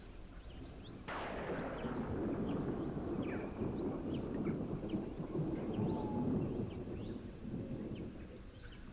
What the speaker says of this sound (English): An Atlantic storm sweeps in from the coast.